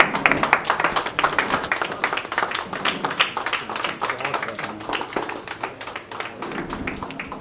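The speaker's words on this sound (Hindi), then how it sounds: "खड़े होकर तालियों से थैंक यू बोल सकते हैं हम सब लोग।" An audience at an RCM business seminar in Delhi stands and applauds, giving brisk, dense clapping with sharp individual claps standing out, loud and close, continuing for several seconds without talk.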